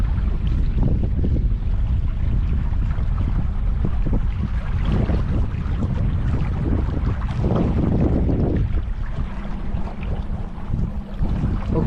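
Strong wind buffeting the microphone during a boat ride on the water near Hoover Dam, a constant loud roaring rush with engine and water noise beneath, steady throughout with no talking.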